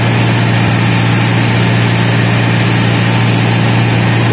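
A boat engine cruising across industrial Itaya Bay near Iquitos drones loudly and steadily, a constant close mechanical roar with no pauses.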